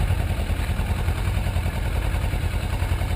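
Motorcycle engine held in first gear as the clutch is slowly let out, a steady low rumble with faint clatter running evenly and close throughout, no voices.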